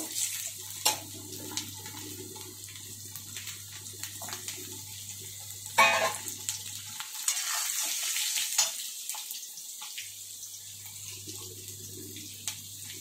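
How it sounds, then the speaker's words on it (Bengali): Potatoes fry in hot oil for a small fish curry, giving a steady sizzle over a low hum that briefly drops away midway before resuming, with a few louder spatters. "এই তেলের মধ্যেই আমি আলু দিয়ে দিব। আলুগুলোকে একটু লাল লাল করে ভেজে নিব।"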